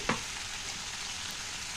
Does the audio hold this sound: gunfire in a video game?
no